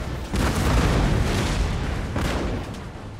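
Booming cannon artillery volley in the video game Total War: Empire, a loud rolling blast that sustains across most of the clip and then slowly fades.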